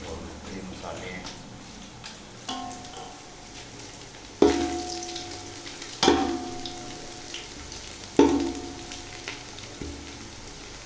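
Garlic, onion, turmeric, chili and mixed spices frying in hot oil, with a steady sizzle that flares into louder hissing bursts as ingredients are stirred, under a voice talking throughout.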